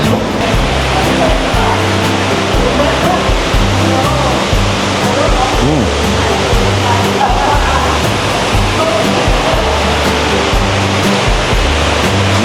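A steady, loud roar of falling water pours continuously from the waterfall inside Singapore's Cloud Forest, a dense, unbroken rush filling the whole scene.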